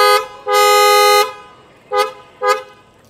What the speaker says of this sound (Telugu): ఇప్పుడు మన BMW X5 హార్న్స్ మన వెంటోకి ఏ విధంగా సౌండ్ ఉందో మీరే చూసి చెప్పండి.